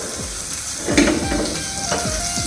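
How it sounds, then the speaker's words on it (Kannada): Burger patties fry in butter on a pan, a steady close sizzle with a few soft scraping stirs of a spoon over the crackling fat. "ಬರ್ಗರ್ ಪ್ಯಾಟೀಸ್ ಇದೆ ನನ್ನ ಹತ್ರ ಸೊ ಅದನ್ನು ಯೂಸ್ ಮಾಡ್ತಿದ್ದೀನಿ ಚೆನ್ನಾಗಿ ಬೇಯಿಸ್ಕೊತೀನಿ"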